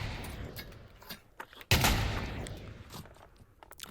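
A single gunshot fired in the WW2 update of the VR shooter Pavlov VR, a sharp close crack with a brief decaying tail, set among faint handling clicks and shuffling.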